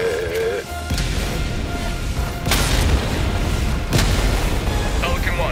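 Orbital strike blasts in the Helldivers video game, two sharp booming impacts landing a second or so apart amid steady loud battlefield noise, with a voice talking briefly at the start.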